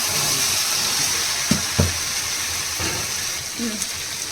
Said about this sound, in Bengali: মশলাটা কষানো হয়ে গেছে, এবার ইঁচড় দিয়ে দেবো।